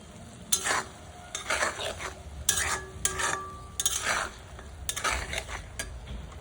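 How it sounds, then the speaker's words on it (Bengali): Spice paste frying in oil for a Bengali pangas fish curry with potatoes and peas: a soft sizzle runs beneath repeated scraping stirs of a utensil against the pan, coming in irregular bursts at close range. "মশলাটা খুব সুন্দর করে কষাতে হবে"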